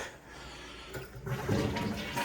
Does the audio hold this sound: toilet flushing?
yes